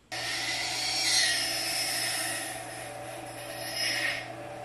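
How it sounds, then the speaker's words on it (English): Bandsaw cutting a chunk out of a wooden piece, a steady motor hum with a continuous rasping cut that swells briefly near the start and again near the end, fairly close, no talking. "so that way I can cut this chunk out on the bandsaw"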